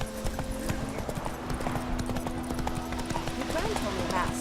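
Rapid hoof clip-clop of a horse ridden through The Witcher 3, steady and fairly close, layered over a continuous game soundtrack hum with occasional speech-like snippets.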